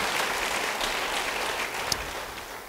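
A congregation at a church service applauds steadily for nearly three seconds, a dense, even wash of many hands clapping at once, with no voices over it.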